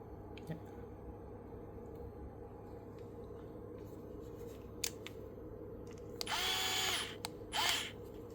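An electric screwdriver works loose small screws while a WILLEN 2 speaker is taken apart, with two short motor whirs near the end, a few small clicks of parts beforehand and low room hum underneath.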